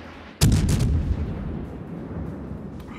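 Naval artillery fire from warship guns in World of Warships, with a sudden loud boom of a salvo followed by a long rumbling decay, with no talk.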